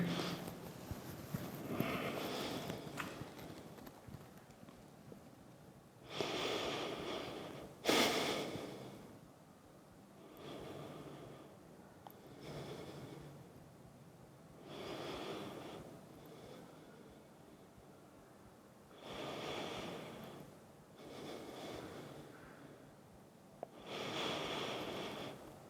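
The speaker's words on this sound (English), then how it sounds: "So I hope you can hear my breathing." Deep yoga breathing close to the microphone, slow audible inhales and exhales repeating in long cycles of a few seconds each, with quiet pauses between breaths and no talking.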